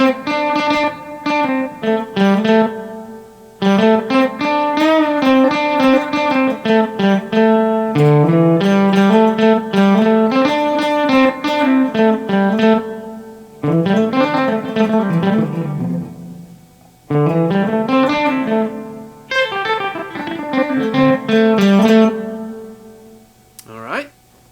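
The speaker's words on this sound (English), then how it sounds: "So this is that slapback that I talked about in the previous video" Electric guitar played through a Boss DD-500 delay pedal on a 200-millisecond slapback setting, short phrases of picked notes each thickened by a quick single echo, loud and close with brief pauses between phrases.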